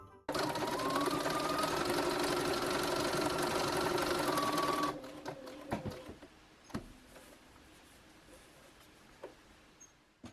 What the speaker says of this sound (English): My mom's machine does eyelets, so she did a test one.